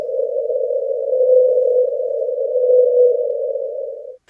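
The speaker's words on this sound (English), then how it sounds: "That was the song of a whale." A single steady low whale-song tone from the Pacific depths hums unbroken for about four seconds, then cuts off abruptly, heard alone.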